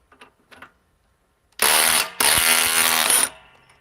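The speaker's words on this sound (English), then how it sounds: "DeWalt XR DCF 870 hydraulic, 152 foot-pounds" A DeWalt XR DCF870 hydraulic impulse driver rated at 152 foot-pounds runs in two loud bursts close to the mic, briefly stopping between them. A few soft handling clicks come first.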